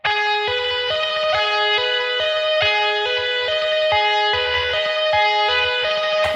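Electric guitar played with two-handed tapping, hammer-ons and pull-offs, a fast continuous stream of bright, evenly rhythmic repeating notes in a cycling arpeggio pattern, close and sustained with no talking.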